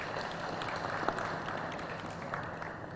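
An expo panel audience at a youth and innovation event breaks into steady, moderately loud applause, a dense wash of many hands clapping throughout.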